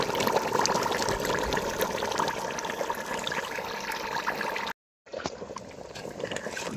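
Spice paste with bay leaves frying in a pan for a meat curry after a splash of water, giving a steady, watery hiss that is close and fairly loud, cuts out briefly, then resumes.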